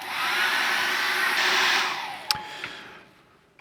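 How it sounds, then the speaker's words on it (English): A hairdryer blowing on wet acrylic paint, a steady close whooshing roar that swells briefly, then switches off and winds down, followed by a couple of small clicks. "So I'm just going to dry this off with a hairdryer"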